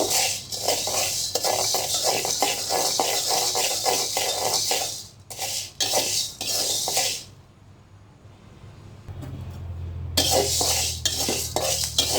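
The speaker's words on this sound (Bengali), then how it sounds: "আমি এখন গোলমরিচ দিলাম, এটাও মশমশা করে ভেজে নেব" Black pepper fries in a pan with a close, crackling sizzle broken by quick rhythmic scrapes and clinks of a utensil, pausing briefly to near quiet before the sizzle and stirring return.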